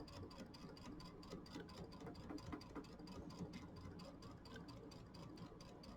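A sewing machine stitches a seam on a mini quilt, a fast, even, rhythmic clatter of the needle running steadily and close, with no talking.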